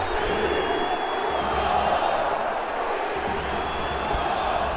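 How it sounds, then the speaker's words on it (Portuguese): Santa Cruz supporters sing together at the Arruda stadium, a dense, steady crowd roar of massed voices that fills the whole stretch without pause. "Bate no braço, mostra a raça e a torcida canta no Mundão do Arruda"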